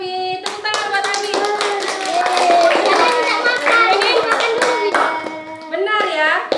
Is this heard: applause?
yes